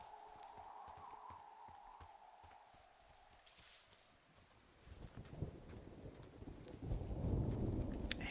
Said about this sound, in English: storm soon. Oh boy. I don't know if I should be out here.